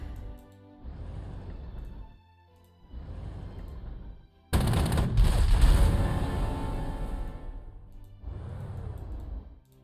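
An anti-tank gun fires in the strategy game Panzer Corps 2: one sharp, loud blast with a rumbling tail that rings out for a few seconds, bracketed by softer repeated game sounds before and after.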